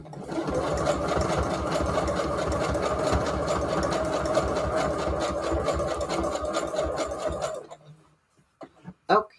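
A sewing machine stitches a junk journal page, a fast, steady mechanical whir and clatter that runs close and continuous, then stops near the end, followed by a few faint handling sounds.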